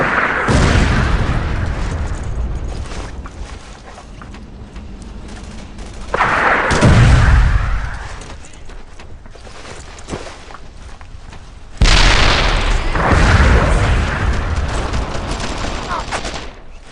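Gunfire and explosions in Brothers in Arms: Earned in Blood, a WWII shooter, with dense overlapping shots and loud booming blasts rolling through the whole stretch, two heavy explosive bursts standing out above the constant crackle of fire.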